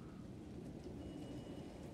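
Steady rain falling in the video game Alan Wake 2, a dense, even hiss with low rumble that stays constant and moderately loud throughout, with no voices.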